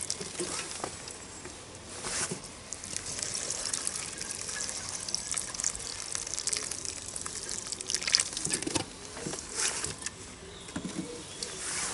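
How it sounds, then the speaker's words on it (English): A watering can pours water into compost in a planted pot of ranunculus corms, giving a soft, steady splashing trickle that holds at a fairly faint level for the whole stretch. "I'm just going to give them another soak with a watering can, so that the compost is wet as well."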